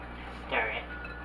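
A spoon stirring bread pudding mixture in a bowl gives one brief, quiet clink against the side, with faint room hum around it.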